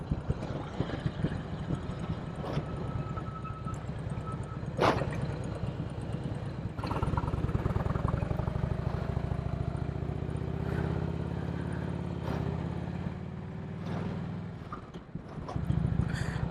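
Harley-Davidson Road King motorcycle riding along with a steady low engine rumble throughout, growing fuller and louder partway through, with wind noise and a few sharp transient knocks over the top.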